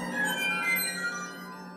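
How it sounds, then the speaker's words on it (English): Waterphone, a concert percussion instrument, played alone: a sustained, eerie shimmering metallic drone with wavering high overtones, steady and close throughout. "waterphone,"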